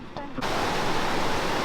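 Steady, loud rushing of water pouring over Broken Scar Weir on the River Tees, a continuous broadband roar that takes over after a brief quieter moment at the start.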